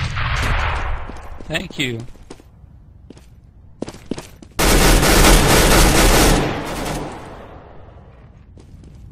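Loud, dense burst of rapid automatic gunfire from Counter-Strike: Global Offensive, sustained for a couple of seconds, preceded by scattered single shots and footsteps, with players chatting over voice before and after.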